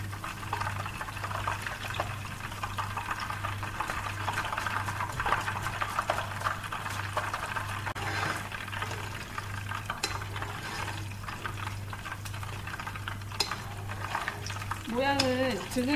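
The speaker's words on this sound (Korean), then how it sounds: "새우를 튀겨주세요." Shrimp deep-frying in hot oil, deveined but not butterflied, for a Korean shrimp tempura rice bowl: a dense, continuous bubbling sizzle with a steady low hum beneath, close and even throughout.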